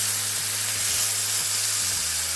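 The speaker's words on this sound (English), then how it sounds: "I'm going to continue with the browning process" Oxtail pieces browning in a hot pan for a crock pot dish give off a steady, close sizzle with a constant hiss and no talking.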